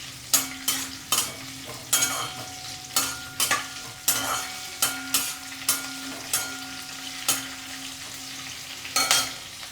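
Dry and green chillies frying in oil for a fenugreek leaf pachadi, a constant low sizzle punctuated by a dozen sharp, irregular spatula scrapes against the pan, close up with no voices.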